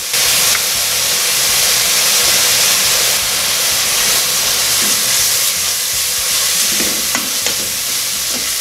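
Onion sizzles in hot oil while being stirred slowly for a Peruvian aderezo, a steady, loud, dense frying hiss with occasional scraping stirs and no talk.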